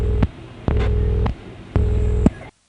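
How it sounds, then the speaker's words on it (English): Old central-office telephone ring machine sending 20 Hz ring current in early-1970s Vermont: a low buzzing, throbbing tone that switches on and off in three rhythmic ring bursts with short silent gaps, steady and fairly loud. "At 20 Hz and lower, with the old ring machine, you did hear a tone"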